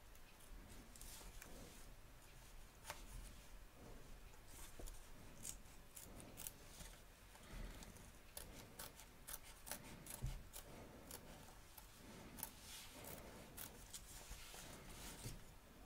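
Close, quiet snips of scissors trimming embroidery fabric around the edge of a hoop come in irregular bursts over soft rubbing of cloth, with no one talking.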